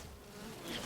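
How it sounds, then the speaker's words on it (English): Bees buzzing in the video game Enshrouded, a close, steady insect drone that swells slightly louder toward the end. "Oh, it's bees."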